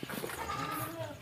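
Goats bleating on a smallholding where goats are raised, several short overlapping cries close by over a steady farmyard background.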